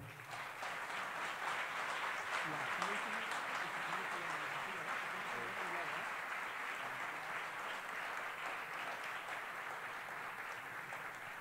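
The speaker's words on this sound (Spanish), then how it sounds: "Fuerte aplauso, por favor." At a municipal ceremony in Colima, Mexico, the assembled audience claps steadily for over ten seconds. The applause is soft and somewhat distant, with faint voices mingled in.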